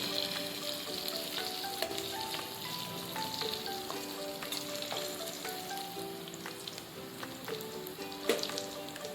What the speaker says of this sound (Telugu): ఉల్లిపాయలు పచ్చిమిరపకాయలను నూనెలో బాగా మిక్స్ చేసుకుందాం.